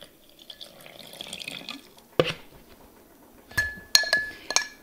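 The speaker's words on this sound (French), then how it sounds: "on verse l'eau dans le bocal" Water poured into a glass jar of acorn-flour sourdough starter, with a few sharp glassy clinks and a brief splash, close and fairly quiet, no talking.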